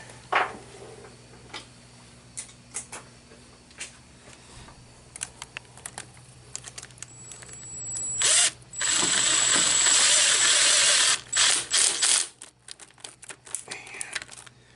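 A hand ratchet turns an 8mm socket on a 2008 Lexus ES350 during a water pump replacement, giving scattered clicks and then a burst of fast ratcheting, close by, over a quiet room hum.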